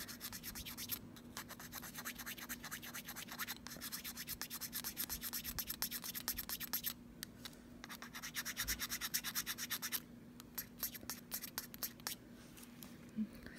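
Nail polish top coat being scraped at: a long run of quiet, rapid scratching strokes, steady and rhythmic with brief pauses, close up and faint.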